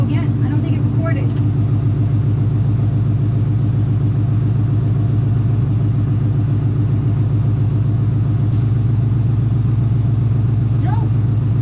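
Steady, loud car engine drone with a mid-pitched rumble during a first road drive in a car with no brakes, holding an even note for the whole stretch with faint chirps on top.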